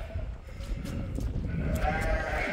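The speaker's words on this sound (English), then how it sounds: "Just feeding the sheep now." Sheep bleat a few times at feeding time over a low rumbling background, the calls fairly close and intermittent rather than continuous.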